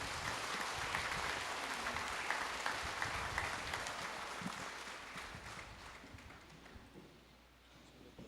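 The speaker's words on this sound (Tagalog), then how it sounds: "pasalubungan tayo pong masika na palakpak" Steady applause from a church congregation at a priestly ordination ceremony, a dense wash of many hands clapping that slowly fades over several seconds, heard from a distance with no talk.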